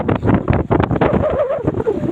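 Blustery wind outdoors along a road in Japan rumbles against the microphone in uneven gusts, with a faint tonal sound rising briefly in the middle.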